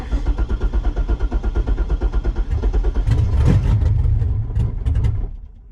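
A Corvette's LS3 V8 runs rough and struggles to idle, chugging in an uneven, loping pulse, then surges louder and harsher with sputtering bursts before cutting out; loud and close, with no talk.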